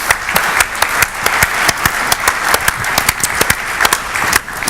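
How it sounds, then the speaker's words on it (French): A conference audience applauds after a Hyper-V Windows Server 2012 R2 demonstration, dense, fast clapping from many hands, close and loud, holding steady throughout. "je pense que vous pouvez l'applaudir"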